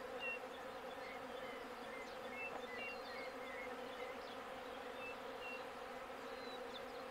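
Bees swarm around a flowering jurema preta tree in the Brazilian sertão, a steady, continuous buzzing hum with individual insects passing close, no voices, moderately faint throughout.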